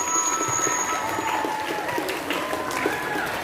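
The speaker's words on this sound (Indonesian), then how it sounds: "Beri tepuk tangan kepada Queen Aprila Yunita." Audience applause for a student's poetry reading at a junior high school literacy stage event, a dense continuous wash of clapping heard in a hall, steady throughout with a faint tone lingering in the background.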